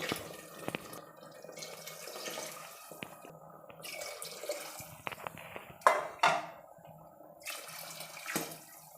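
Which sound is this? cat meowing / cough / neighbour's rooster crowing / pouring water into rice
pouring water into rice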